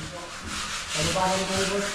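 Sandpaper rubs rhythmically against a rowhouse surface in repeated strokes, close and steady, with faint voices in the background.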